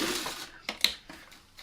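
A sewing machine stitching fabric applique runs in a few short close bursts of mechanical whirring and clicking, separated by brief pauses.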